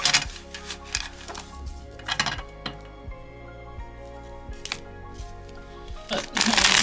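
A vintage Epinal deck of playing cards being shuffled, several quick riffling bursts close up, with a louder flurry at the end and faint talk in between.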